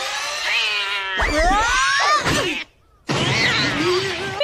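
A cat in the Naruto Shippuden anime meows and caterwauls in long, loud, wavering cries close up, breaking off into a brief silence before another drawn-out yowl.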